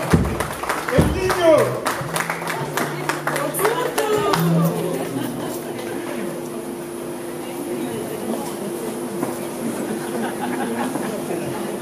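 A crowd applauds at a posthumous gold-record award ceremony in Congolese music, a burst of clapping at the start that fades into busy room noise, with speech over it.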